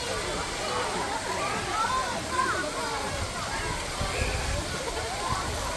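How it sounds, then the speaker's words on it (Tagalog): Spring water pours down at a resort in Davao City, a constant broadband rush of flowing water with a speaking voice running over it. "So dyan po nanggagaling yung tubig pababa."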